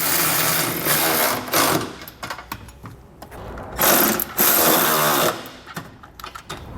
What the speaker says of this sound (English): we come back with a 19mm or 3/4 inch socket and snug everything down